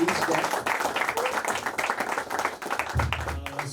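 An audience bursts into a round of applause at a college festival event, scattered clapping rising and falling around voices, with a low thump near the end.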